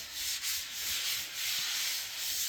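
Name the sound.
hand sanding drywall mud with fresh sandpaper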